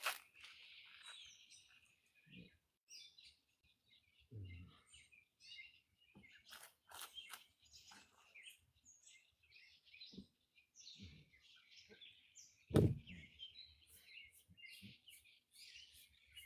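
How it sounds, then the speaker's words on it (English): Birds chirp and tweet outdoors on a rainy day in a quiet, peaceful setting, giving short scattered calls at moderate distance, with occasional soft patters and one sharp louder knock partway through. "The sound of birds is"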